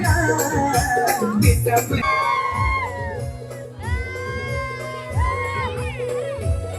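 Whoops and shouting from a crowd at a haldi wedding celebration in Kelavane village, mixed with loud, steady drum-driven dance music that carries on throughout.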